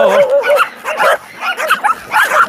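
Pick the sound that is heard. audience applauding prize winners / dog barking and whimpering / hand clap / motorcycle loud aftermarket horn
dog barking and whimpering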